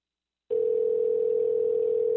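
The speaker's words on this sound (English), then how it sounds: "we should have Josh hopefully on the phone here very shortly" A telephone dial tone sounds during a call to a radio talk show guest. After a brief silence, a steady, unbroken, loud hum comes on alone.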